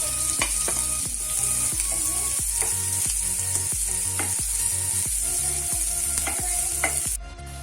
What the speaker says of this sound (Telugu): ఇప్పుడు అదే ప్యాన్లో ఒక 2 టేబుల్ స్పూన్ ఆయిల్ యాడ్ చేసుకోవాలి. ఇందులో కట్ చేసి పెట్టుకున్న ఆనియన్స్ని యాడ్ చేసుకోవాలి.